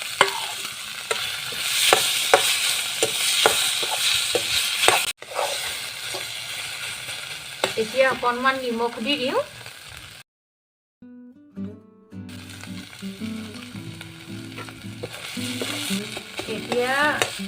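A vegetable mixture of grated carrot and beetroot is stirred and fried in a pan for veg chop, with scraping stirs and a soft sizzle. A person speaks over it, and there is a brief silent pause partway through.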